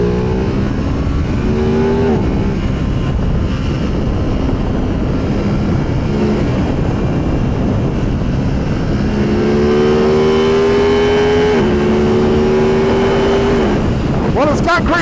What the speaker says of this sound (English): we're going to do some highway cruising to see how this bike is